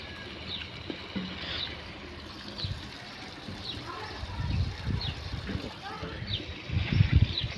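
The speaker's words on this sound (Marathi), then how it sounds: "पाणी सुटलंय" Running water fills containers outdoors in the morning as a low, steady wash, with birds chirping intermittently and a few low knocks and splashes growing louder toward the end.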